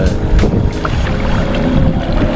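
An outboard fishing boat motor idles and churns on Lac Saint-Jean, a loud close rumble with intermittent wind buffeting and water splashes against the hull.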